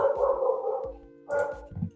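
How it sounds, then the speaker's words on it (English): Several dogs barking excitedly indoors, a run of loud close barks and yips in two bursts with a short pause between. "Apologies for my dogs going crazy."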